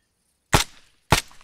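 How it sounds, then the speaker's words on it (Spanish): Two sharp gunshots fired during a combat patrol, about half a second apart, loud and close with brief decaying tails and no talk. "Soy yo disparando."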